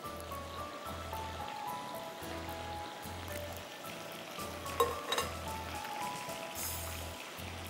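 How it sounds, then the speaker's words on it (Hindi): Chicken goujons frying in oil give a steady close sizzle and crackle, a continuous hiss with a few sharper pops, set against a faint repeating low background tone. "मैं ये फ्राई करके निकाल रही हूँ"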